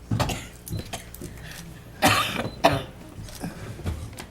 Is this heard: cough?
yes